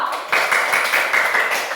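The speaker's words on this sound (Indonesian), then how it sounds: "Tepuk tangan dulu untuk kelompok TikTok." A classroom of students applauds a student group after its presentation, a dense burst of many hands clapping that starts abruptly and carries on steadily for over a second, with faint voices underneath.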